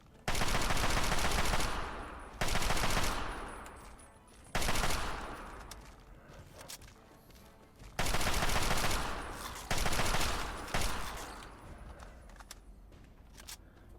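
Bursts of automatic gunfire in Fallout 3 against mirelurks, several long loud rapid-fire volleys separated by short gaps, the last ones trailing into quieter game noise.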